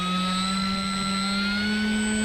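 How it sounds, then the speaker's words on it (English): Large FMS ASW 17 RC glider at takeoff into the wind, a steady, loud electric whine with a constant high tone, continuous and close throughout the short stretch. "we're going to take off into the wind"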